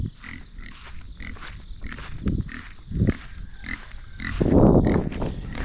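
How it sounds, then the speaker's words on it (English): Breeder pigs in an outdoor summer pen on a small homestead grunt and snort repeatedly, with several louder grunts, rustling and shuffling in the pen, and a longer burst of snuffling near the end. "So these are our breeder pigs."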